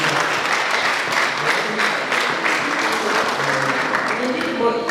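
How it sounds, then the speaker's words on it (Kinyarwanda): A crowd at a choir's studio appearance applauds, steady clapping throughout with voices mixed in under it. "amashyi menshi"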